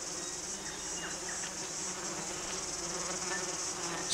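Wasps in a forest buzz in a dense, continuous drone, with individual insects passing close over a steady chorus of insect hum.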